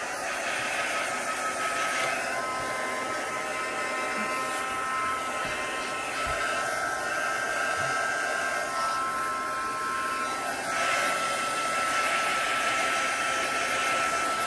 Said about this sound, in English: just using the gun, the heat gun, to dry it